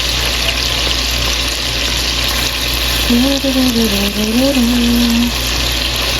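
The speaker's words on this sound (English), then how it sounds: "I'm just going to flip it like this, so that the other side will be cooked" Food sizzling and frying steadily in a pan, a continuous broadband hiss with a faint tonal hum rising midway while the piece is flipped over.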